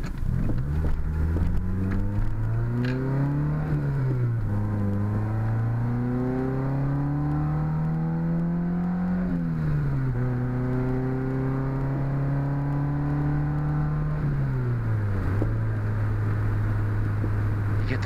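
A 1986 Honda CRX Si heard from the cabin at about 40 mph, its engine droning steadily while the pitch climbs, dips and climbs again through gear changes, with no talking over it.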